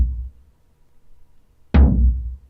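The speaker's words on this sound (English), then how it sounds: "Starting off with this tom that I have here." A single big tom drum hit sampled for organic house production lands sharply after a stretch of low rumble, ringing out with a full low body and a bright, slightly distorted mid-to-high attack that decays over about a second.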